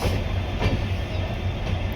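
The Ranakpur Express rumbles steadily past at foggy Bikaner railway station with a low, continuous drone and faint rhythmic wheel clatter, loud and close, with no voices.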